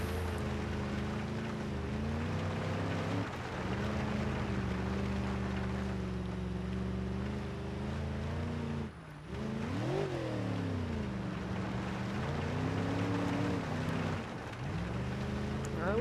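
A truck engine lugs at low RPM in BeamNG.drive, a steady rough droning rumble with wavering pitch, a brief dip and surge midway, then continued heavy labouring hum.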